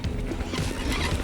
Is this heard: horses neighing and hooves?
yes